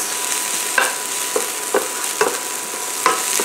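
Minced garlic sizzles steadily in oil in a pan, with a spoon or spatula scraping through it in several distinct strokes spaced about half a second to a second apart.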